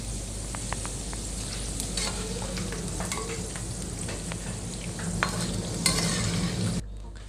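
Potato fries stirred into a cabbage salad with a few spoonfuls of hot oil: close, steady crackling and a wet, scraping shuffle with scattered small clicks, no talking.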